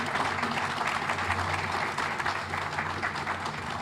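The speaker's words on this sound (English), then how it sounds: "they do deserve a round of applause" A crowd at a Transition Academy ribbon cutting applauds special needs teachers, a continuous, even clatter of many hands clapping, moderately loud and unbroken, with no voices standing out.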